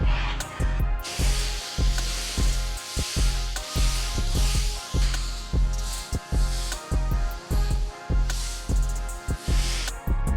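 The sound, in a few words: rinsing pre-foamed car with water spray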